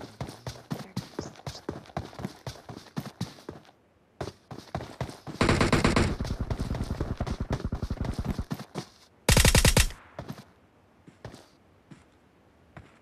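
Gunfire in the mobile battle game PUBG Mobile: rapid bursts of shots with clattering footstep-like taps running through, one dense sustained volley midway and a short sharp loud burst near the end, with a few quiet gaps.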